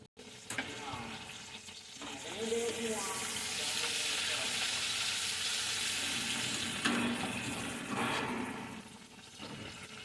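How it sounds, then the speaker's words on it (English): Breaded chicken breast tenders fry in hot oil, a loud, continuous hiss and crackle that swells after the first couple of seconds and holds steady, with a brief faint voice near the start. "We're gonna fry these up."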